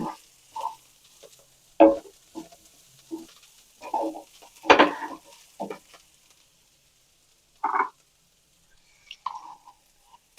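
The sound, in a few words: sautéing drumstick flowers in a pan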